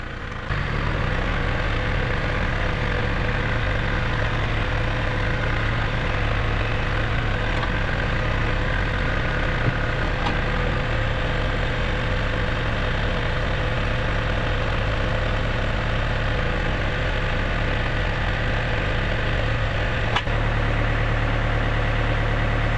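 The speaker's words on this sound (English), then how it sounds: "get the tractor and see if it works" A tractor engine idles steadily at close range, a continuous low diesel rumble with a constant hum that holds unchanged throughout, with no talking.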